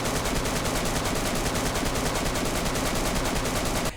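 A KAM rifle fitted with a 75-round drum magazine fires in the DayZ video game, a loud, dense stream of rapid automatic shots that runs unbroken for about four seconds, with no voices.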